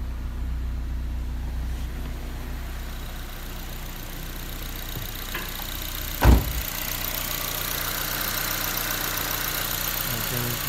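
A Honda S2000 idles at about 1,000 RPM while still below full operating temperature, a steady low, even engine hum running throughout, with one brief sharp knock or clunk partway through.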